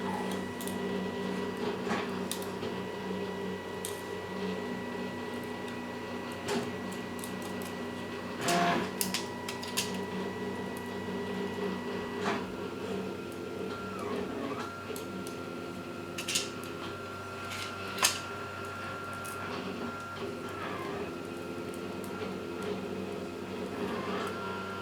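A 3D printer runs noisily indoors, giving steady motor whines and shifting tonal hums with occasional clicks and ticks as the head moves.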